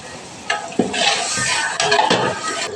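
Meat tipped into hot oil tinted with turmeric in a pan lets out a sudden loud, close sizzle, followed by steady hissing frying and clattering stirring for a few seconds, with no talk.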